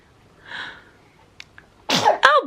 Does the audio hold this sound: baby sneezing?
yes